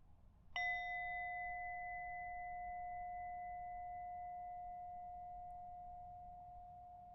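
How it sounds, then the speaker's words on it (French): A small gong is struck once and rings with a clear tone that lingers and slowly fades for about seven seconds against a quiet background. "un des sons préférés de Mia, le son de son joli gong."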